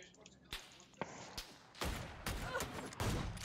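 Gunfire rings out in a first-person shooter as players trade shots: sharp, separate reports at uneven gaps, some close and punchy, others more distant, with a busy game background.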